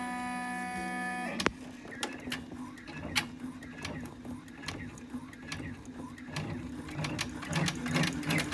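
An embroidery machine stitches an in-the-hoop pleated face mask. It opens with a brief tonal whir, then settles into a busy mechanical chatter of rapid ticks and clacks, close and steady.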